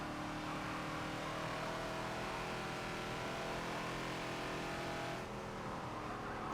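A Ford Falcon XB race car at Maple Valley in Forza coasts off the throttle into a corner, its engine a steady, loud droning hum that eases slightly near the end, with no voices.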